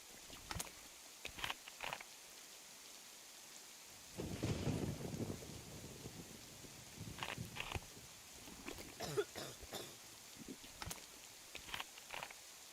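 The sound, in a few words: thunderstorm with rain in video game DayZ, Livonia map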